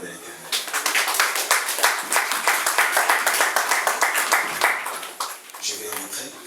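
A church congregation breaks into rhythmic, loud clapping for several seconds. The clapping tapers off near the end.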